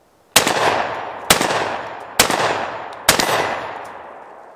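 Four loud shots from a Remington V3 Tactical 12 gauge shotgun firing bird shot, spaced about a second apart, each sharp blast trailing off into a long outdoor echo.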